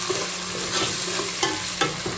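A ginger, garlic and green chili paste fries with onions in a pan for chicken and potato curry, giving a constant close sizzle broken by a few scraping stirs, with no talking.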